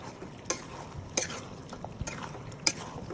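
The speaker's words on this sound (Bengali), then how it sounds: "এই তো কষানো হয়ে গেছে, তেল উঠে এসেছে। এটা এখন ভালোভাবে নেড়ে দিই।" Cooked-down meat masala being stirred in oil, with soft scraping and a few sharp spoon taps against the pot over a faint low sizzle, close and quiet, no talking.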